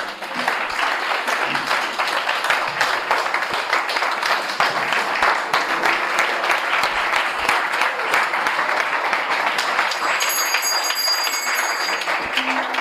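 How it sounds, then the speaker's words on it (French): A church congregation applauding and acclaiming the Lord, sustained loud clapping with scattered cheers and voices across the whole stretch, dense and even from start to finish. "On acclame le Seigneur."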